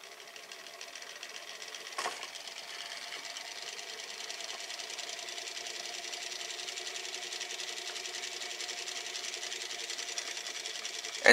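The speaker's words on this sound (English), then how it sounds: "you can wind it up a lot, then release to have it spin" Wind-up Chou Doubutsu Busou DX Cube Octopus toy from Zyuohger spins on its back after release: a short click, then a steady, close mechanical whirring buzz that runs evenly for about ten seconds with no talking.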